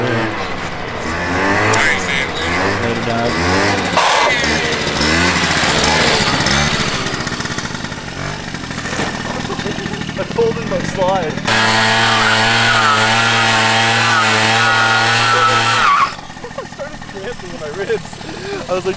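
A two-stroke 50cc moped engine revs hard and close, its buzzing pitch rising and falling in repeated sweeps, then holding a steady high drone before cutting back, with voices heard over it.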